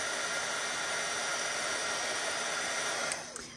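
A heat tool blows hot air over embossing powder on a winter owl stamped card, a loud, steady rushing whoosh like a hair dryer that holds constant before easing off at the very end.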